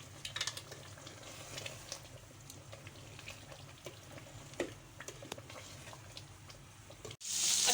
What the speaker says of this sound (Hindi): अब मैं इसको भून लूंगी।